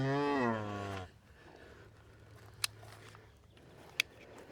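A single loud cow moo from livestock cattle on a farm, a drawn-out harmonic low from about the start to one second, followed by quiet outdoor ambience with two faint sharp clicks.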